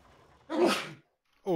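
One short, sharp sneeze burst, close and fairly loud, in a quiet room, followed by the start of another voice.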